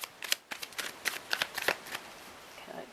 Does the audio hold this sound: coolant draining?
no